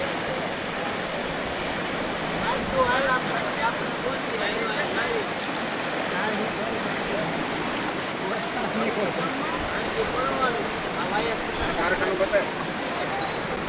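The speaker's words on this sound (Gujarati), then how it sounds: "નદી આવી ગઈ છે" A river in flood after heavy rain near Sedarda village in Mahuva taluka, rushing with a dense, continuous roar of moving water, loud and close, with a voice speaking over it.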